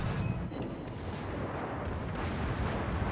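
Warship naval guns in World of Warships rumble and boom continuously, layered heavy artillery blasts forming a dense, loud battle roar without speech.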